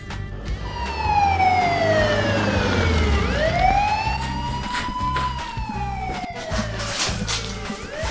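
A police car siren wails loudly and close by in a game, sweeping down and then rising and falling in long tones over a low engine hum.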